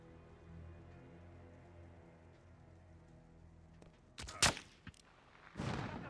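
A few sharp, loud gunshot cracks near the end, preceded by a low rumbling backdrop; the shots sound synthetic and game-like, from Call of Duty: Modern Warfare (2019).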